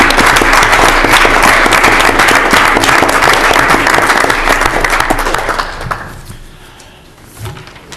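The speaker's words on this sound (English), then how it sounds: "Jimmy, you deserve an applause" Loud applause from the audience at a common council meeting, dense for about five seconds before fading away, with a single thump near the end.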